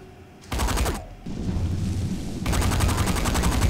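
Rapid automatic gunfire of flaming bullets in the video game Saints Row IV, loud dense bursts with a brief gap before a longer sustained volley.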